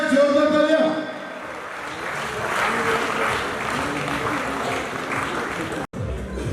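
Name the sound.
audience applause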